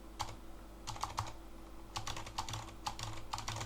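Mechanical keyboard keys clack in sharp, quiet presses, a few isolated taps then quick clusters of clicks, close up against a soft electrical hum.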